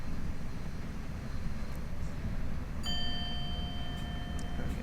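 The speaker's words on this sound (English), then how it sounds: "You get a bell that's like, you're not slowing down fast enough." Electronic speed warning bell inside a Dutch ICMm Koploper train cab in Train Sim World 5, on the Groningen–Zwolle route: a clear steady multi-tone chime starts midway and rings on over a constant low rumble of the moving train.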